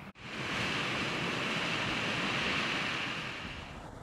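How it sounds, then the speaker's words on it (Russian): The Blizhny waterfall near Amderma pours in a steady, loud, broadband rush of falling water that continues evenly from start to finish, with no voices. "Одно из них находится рядом с поселком – водопад Ближний."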